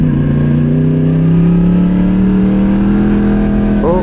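A car with a holed exhaust revs on a Naples street, its loud raspy engine note climbing steadily and then easing, close and continuous with a rough buzzy edge and no talk.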